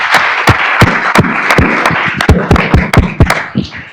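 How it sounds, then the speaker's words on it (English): A seminar audience claps for a panel of art entrepreneurs, with loud, sharp individual claps spread across a small room, steady and fairly close, with no talk over them. "let's have one more round of applause for our panel today"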